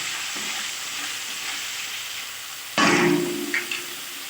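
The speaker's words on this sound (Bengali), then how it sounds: "মেরে চেড়ে মশলাটা কষিয়ে নেব" Spice paste of dried chilli, ground cumin, salt and turmeric sizzling in a pan as it is sautéed, a steady hiss that flares into a louder burst of crackling partway through as it is stirred.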